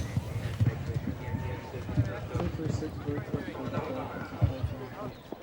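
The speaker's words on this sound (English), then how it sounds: "A talented jockey, a top-class horse." Horse hooves pound the turf in an irregular, rapid galloping rhythm at an outdoor horse trials event, heard steadily beneath continuous commentary.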